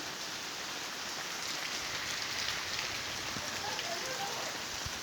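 Steady rain falls outdoors, a dense even hiss of drops on surfaces with occasional louder drips, moderately faint and continuous.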